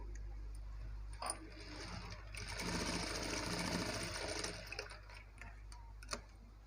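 A sewing machine stitches a blouse in a quiet room: a faint, brief burst of rapid needle whirring in the middle, surrounded by soft clicks and small handling ticks of fabric and tools.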